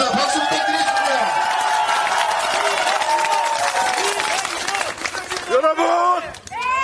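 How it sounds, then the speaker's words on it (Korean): Crowd applause and cheering at an outdoor press conference on a historic street in Gunsan, a dense, loud wash of clapping with whoops and voices mixed in that thins toward the end. "박수 부탁드리겠습니다."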